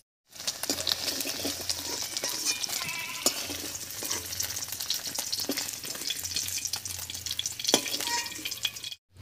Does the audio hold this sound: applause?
no